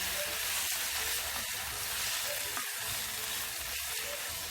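Cow mouth meat simmering and sizzling in a pot over an outdoor fire, with steady frying hiss and a few scraping stirs of a spoon, close and continuous, no talking.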